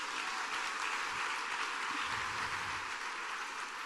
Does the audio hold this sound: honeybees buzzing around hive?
no